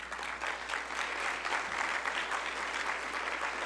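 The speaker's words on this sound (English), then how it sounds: "let's give them a round of applause, will you?" Steady applause from a sizable audience fills the room, continuous and even throughout, with no voices standing out.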